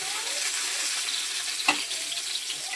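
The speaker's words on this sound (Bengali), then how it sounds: "একটু মুচমুচে করে ভাজবো, যেহেতু মাছের ঝোলে দেবো" Eggplant slices fry crisp in hot oil in a pan, a close, continuous sizzle with a single sharp clink partway through as the pieces are turned.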